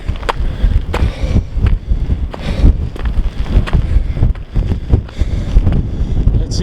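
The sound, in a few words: strong wind on a cliff edge, Cedar Mountain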